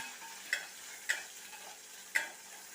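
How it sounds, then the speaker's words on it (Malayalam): Chopped onion going into a hot frying pan while making rasam, a soft steady sizzle with three sharp clinks of a spoon against the pan. "ഇതിലേക്ക് നമുക്ക് അരിഞ്ഞു വെച്ചിരിക്കുന്ന ഉള്ളി ഇട്ട് കൊടുക്കാം"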